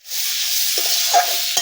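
Potatoes and drumsticks fry in a spiced curry with a steady close sizzle, broken by a couple of scraping stirs of the pan.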